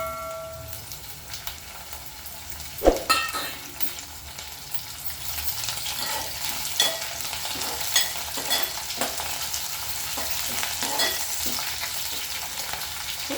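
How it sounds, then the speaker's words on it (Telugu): Eggplants frying in a pan with salt, chili and spice powder, a continuous close sizzle with utensil scrapes and taps, one sharp clatter near the start, then steady stirring. "మంచిగా వంకాయలు ఫ్రై చేయాలి"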